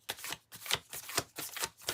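Cards from a tarot deck being handled and drawn make a quick series of crisp riffling flicks and slaps, about five short bursts in rapid rhythm, close and fairly soft.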